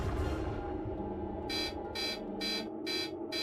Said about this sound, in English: alarms sounded at the most sensitive scientific devices ever constructed